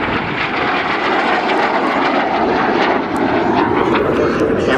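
Vintage aircraft flying a display at the Shoreham Airshow, a steady loud broadband engine roar that holds constant throughout with no pauses.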